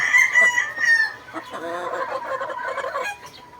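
A Bone Crusher hatch gamefowl rooster crows loudly and close by, a strong drawn-out call followed by clucking and further crowing against light background noise.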